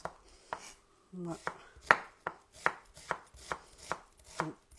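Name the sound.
knife finely chopping onions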